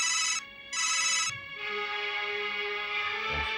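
A telephone ringtone rings loudly in a domestic scene, with two short electronic bursts followed by a steady sustained ringing tone and no voices.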